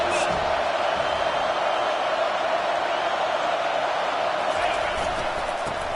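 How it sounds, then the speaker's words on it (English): A stadium crowd roars on third down at a college football game, USC hosting UW, a steady dense wall of noise holding at full volume throughout. "Third down, and this crowd will blow out a vocal cord to help this defense."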